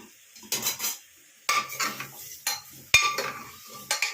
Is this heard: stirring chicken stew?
yes